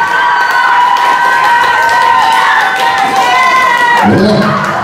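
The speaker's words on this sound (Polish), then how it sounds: "I brawa doping." Women's carnival crowd in Rozwadza, 2013, cheering and shouting loudly and continuously as a woman rides by on a scooter, with a few voices rising above the din.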